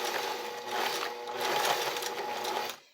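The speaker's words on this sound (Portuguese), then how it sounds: "Vou ligar a minha máquina e vou dar uns pontinhos aqui" A domestic sewing machine stitches knit fabric in a steady, close, continuous mechanical whir that runs slowly and evenly before stopping abruptly.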